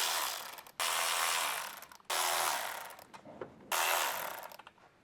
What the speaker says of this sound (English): Use a medium 10mm deep socket with an electric ratchet wrench to remove the ignition coil mounting bolts.